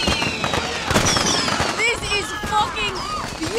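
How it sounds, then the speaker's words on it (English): Fireworks burst in the Far Cry 6 video game, a rapid cluster of crackling pops followed by whistling, rising streaks, loud and close, with excited voices talking over them. "Fireworks! Whole island blow up, watch."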